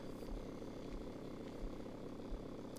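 A Commodore plane's engine in the Back to the Future Part IV adventure game: a steady, low, droning hum that holds level throughout, faint and without talk.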